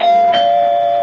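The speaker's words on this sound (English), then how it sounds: "Doorbell." A doorbell in an old CBS radio mystery drama rings once, a clear electronic tone struck twice in quick succession that then hangs and sustains, loud and close with nothing else over it.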